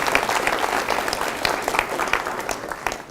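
Audience applause for an event organizer and his team, a lively burst of crowd clapping, loud and close, with scattered stronger claps and no talking.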